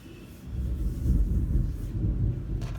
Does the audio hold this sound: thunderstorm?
yes